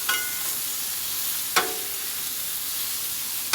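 Chopped beef round steak sizzles on a Blackstone 22-inch griddle, a steady close hiss broken by a couple of sharp scraping or stirring strokes, with no talking.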